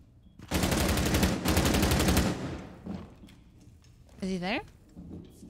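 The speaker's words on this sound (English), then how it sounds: "He's just shooting because he can?" Rapid automatic gunfire in Rainbow Six Siege, a loud sustained burst of shots for about two seconds, followed by scattered fainter impacts and a brief rising electronic tone near the end.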